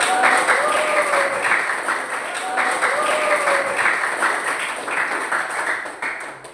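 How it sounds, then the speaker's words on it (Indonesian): A classroom of students claps together in a lively, fairly loud burst of applause, with a teacher's voice and some chatter heard over the patter as it gradually tapers off. "Tepuk tangan dong untuk oke"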